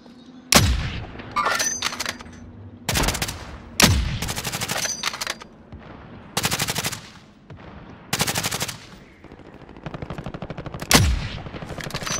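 Rapid bursts of automatic gunfire and single loud shots from a Call of Duty match, repeating in sharp clusters every second or two with short quiet gaps between them, close and loud.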